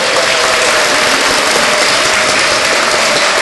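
Audience at a children's day round-table discussion clapping loudly and steadily, a dense continuous burst of applause with no talk over it.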